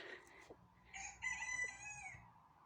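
Chickens cluck and call nearby in the evening, a short burst of bright, crowing-like squawks rising then fading, fairly quiet and with no talking.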